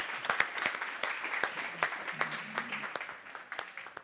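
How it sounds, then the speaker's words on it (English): Audience applause at a health and wellbeing conference stage in Valencia, a steady patter of many hands clapping at moderate distance that fades slightly toward the end, with no talking over it. "Big applause for all of them."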